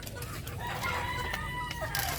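Roosters crowing amid clucking fowl on a farm in the rainy season, drawn-out calls overlapping against a noisy farmyard background, moderately distant.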